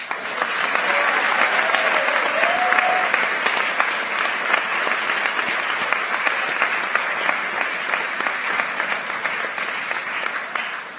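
Sustained, dense audience applause fills a high school awards ceremony as students stand to be honored, a steady loud wash of many hands clapping for about eleven seconds with no break.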